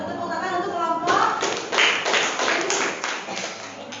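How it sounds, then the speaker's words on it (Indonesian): A group in a classroom applauds, with a burst of clapping that starts about a second in and continues in a dense, fairly close patter. Speech runs faintly beneath it at the start. "Tepuk tangan untuk kelompok."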